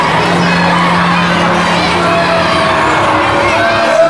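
Loud, continuous crowd noise at a wrestling cage match for a heavyweight championship, a dense roar of cheering and shouting that fills the whole clip, with a commentator's voice faintly underneath.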